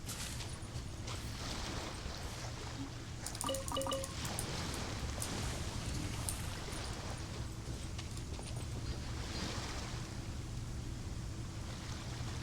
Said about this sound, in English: The sound of the water lapping up on the shore is actually very nice.